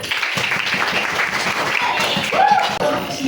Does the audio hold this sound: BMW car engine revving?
no